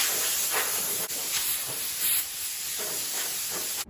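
Compressed air hisses steadily from a nozzle as an air compressor blows drywall dust off wooden kitchen cabinets, a continuous close blast with slight surges, alone without talk, cutting off abruptly at the end.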